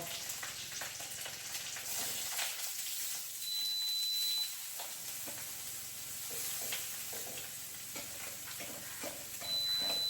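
Curry leaves, mustard seeds and chopped beetroot frying in a pan, a fairly quiet continuous sizzle with scattered crackles and faint stirring clicks, dipping briefly midway.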